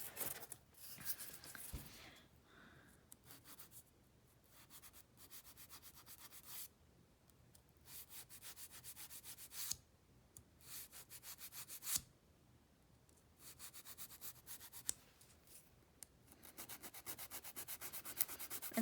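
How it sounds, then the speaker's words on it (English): Fingernails being filed during a dip powder manicure, soft close rasping strokes coming in repeated bursts with short pauses between, faint and with no talking. "And then I'm going to finish filing."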